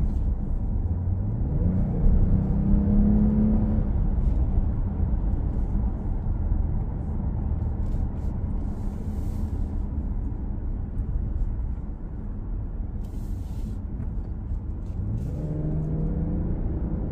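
A new 2023 Lexus ES 350 F Sport engine accelerates steadily from inside the cabin, a continuous low rumble and rising drone that holds through the stretch with shifts audible near the start and end, no talk over it.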